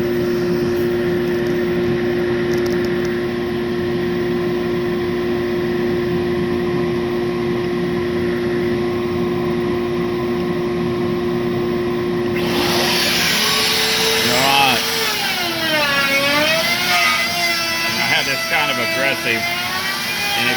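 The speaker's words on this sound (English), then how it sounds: "Aggressive, and it's cutting, and that's just a router bit." A CNC router bit cuts blue construction foam inside an enclosure. A steady motor hum runs throughout, then a loud, shifting cutting whine begins partway through, with someone talking over it.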